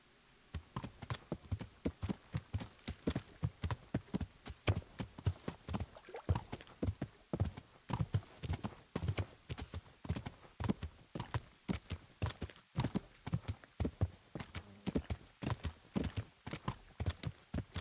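Steady clip-clop of horse hooves trotting at an even rhythm in the video game Kingdom Come: Deliverance, close and clear, with no voices.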